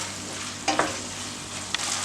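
Tomatoes sautéing in spiced masala oil for a chicken keema upma. Steady low frying hiss runs throughout, broken by a couple of brief stirring scrapes, with no talking.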